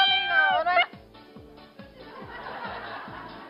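A cat gives a short, rising meow at the start. It is followed by rhythmic laughter and voices from a television studio audience.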